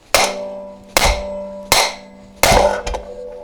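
A hammer strikes a clutch puller on the primary clutch of a 2005 Ski-Doo GTX 500SS snowmobile, giving four sharp ringing metallic blows at uneven intervals, close and loud, with a small rattle after the last one.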